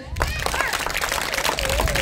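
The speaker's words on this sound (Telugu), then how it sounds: "ఒకసారి గట్టిగా క్లాప్స్ కొట్టండి" An audience breaks into loud, energetic clapping at a village awareness gathering, a dense burst of applause from many hands with a voice cutting through over it.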